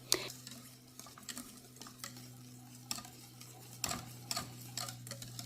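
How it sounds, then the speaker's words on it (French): Pastry cream with butter is stirred in a pot, a spoon or whisk scraping and clinking against the metal in irregular strokes over a constant low electrical hum, close and fairly quiet. "On mélange le tout jusqu'à ce que tout s'incorpore."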